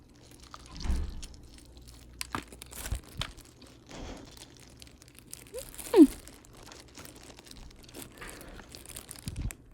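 Close, crisp crunching and chewing of seasoned fried chicken with occasional crinkling and tearing, irregular bites against a quiet background, no talking.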